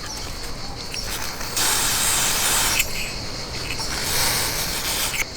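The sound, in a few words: silicone spray sprayed on motorcycle clutch rubber boot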